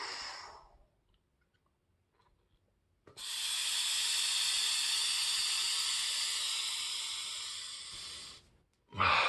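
One long, steady breath drawn through an Expand-A-Lung resistance breathing device, a loud, close airy hiss lasting about five seconds, with a shorter breath sound before and after.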